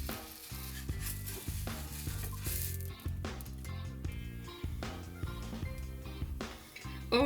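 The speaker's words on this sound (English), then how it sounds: "you can actually hear the blueberries sizzling" Blueberry pancakes sizzle and fry in oil in a pan, a close, steady crackling hiss running under background music.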